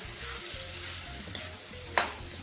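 Potatoes with a little turmeric frying in a pan, a steady close sizzle with a couple of sharp scraping clicks from stirring.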